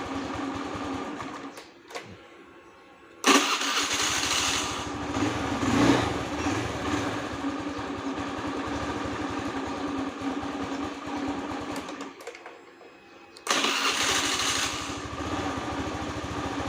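A Honda Scoopy-i scooter with a stalling fault is started: an ignition burst, then a light high-pitched buzzing idle that drops away and catches again twice with a brief quiet gap, close by and without speech.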